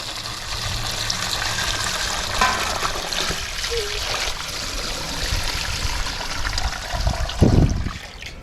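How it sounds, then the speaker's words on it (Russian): Ice water pours over fish in a steady, splashing stream for several seconds, close and fairly loud, with a brief heavier splash near the end. "теперь заливаю нашу рыбу ледяной водой"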